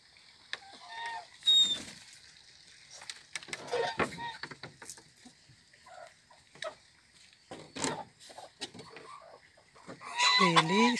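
Chickens in a farm coop at dusk give soft, scattered clucks and murmurs close by, with a louder cackling burst near the end, mixed with faint handling noises as the coop is closed and someone speaks intermittently.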